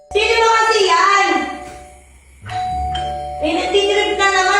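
A home doorbell chimes amid loud, animated voices, a ringing tone sustained under the talk, then sounding again after a brief lull as chatter resumes.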